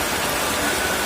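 Heavy rain driven by wind pours down at a livestock pen on a stormy afternoon, a dense, steady hiss of falling water that fills the whole moment with no voices.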